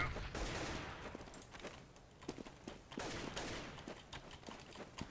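Decoy grenade in CS:GO mimicking gunfire, a run of sharp rapid shots in uneven bursts spread across the stretch, moderately loud amid in-game ambience, with players talking faintly underneath.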